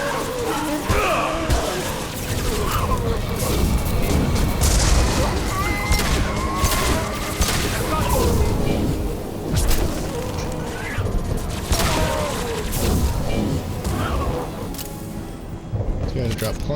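Sustained gunfire in Mass Effect Legendary as the player fights a hostile, dense overlapping shots and booms roaring for the whole stretch at a loud, steady level, with voice-like sounds mixed into the battle.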